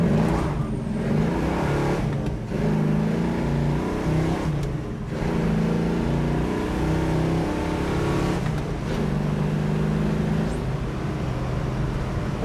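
A 1970 Chevrolet Chevelle with a well-tuned engine accelerates hard through traffic. The exhaust roars steadily for the whole stretch, and brief dips mark gear changes between long pulls.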